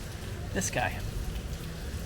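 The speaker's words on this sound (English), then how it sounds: "but it's raining" Steady rain falls on a street at night in Carcassonne, southern France, a soft even hiss under a short bit of nearby talk.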